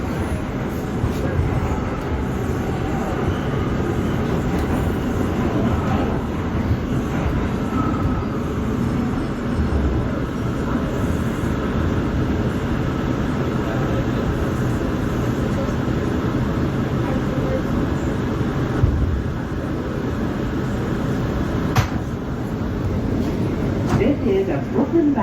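A New York City R179 C local subway train rumbles along steadily with a continuous low roar and occasional rattles and squeals, heard from inside the car.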